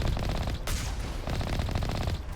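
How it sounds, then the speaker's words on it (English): A ship's cannon fires in the video game Mass Effect against a Geth ship, heavy rapid bursts of booming shots in dense repeated volleys, loud and continuous with a brief pause. "Thank goodness we got a cannon on this thing."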